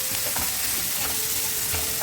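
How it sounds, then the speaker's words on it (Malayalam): Onions with a pinch of salt sautéing in a pan give a steady, close frying sizzle, with a few soft stirring scrapes breaking through. Nobody speaks. "കുറച്ച് ഉപ്പും കൂടെ ഇട്ടിട്ട് നമുക്കിത് വഴറ്റിയെടുക്കാം"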